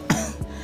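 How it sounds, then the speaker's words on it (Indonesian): A man coughs twice at close range, a sharp first cough followed by a softer second one, in a quiet room. "Agak-agak batuk sedikit ya bro ya."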